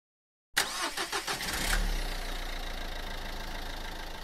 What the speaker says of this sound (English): I got in the car again and drove on slowly.